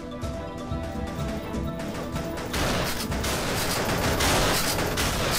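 Gunfire in the video game Pixel Gun World, dense rapid shots rattling continuously under a busy game soundscape that grows louder and fuller in the second half.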